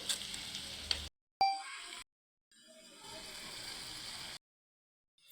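Chopped onion pieces hit a sizzling egg and chicken liver curry in a home kitchen pan. The frying crackle comes in short bursts separated by abrupt silences, with a faint ding in between.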